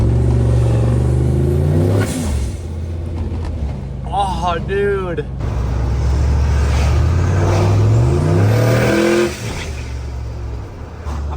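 A turbocharged 6.0 engine in a junkyard-built truck revs hard, rising and falling in loud, rough sweeps with a choppy cam idle, while wind buffets the microphone and a man briefly exclaims over it.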